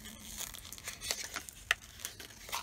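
Taped packaging on a Spellbinders BetterPress letterpress system being opened, with crinkling and sharp tearing of tape and wrapping in irregular bursts; close and fairly quiet, with no talking.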